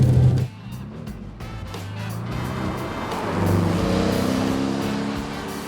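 A 2016 Porsche 718 Boxster's four-cylinder engine drones in a flat, monotone blare as the car accelerates, the pitch climbing steadily through the gears; loud and close, with no voices.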